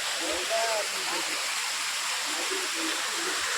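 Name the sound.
water flowing down from the hill, stream or waterfall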